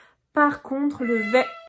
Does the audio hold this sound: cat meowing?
yes